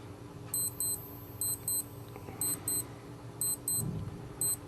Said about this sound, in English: I'll explain the snooze alarm, which is just like these alarms, except the beeping will repeat every 5 minutes until you turn it off.